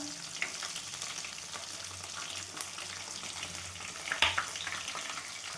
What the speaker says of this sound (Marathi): छान कांदा आपला परतून घ्यायचा तांबूस कलर येईपर्यंत